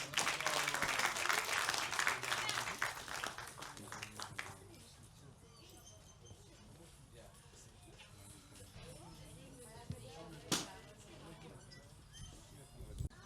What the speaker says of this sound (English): a big round of applause for all the devotees